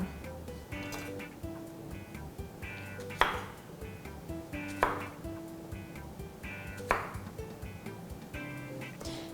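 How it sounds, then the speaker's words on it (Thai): A knife chops through a small round Thai eggplant on a board in a few sharp, evenly spaced strokes, with faint background noise and tones between cuts. "เดี๋ยวเราจะมา หั่นมะเขือเปราะกันก่อนนะคะ"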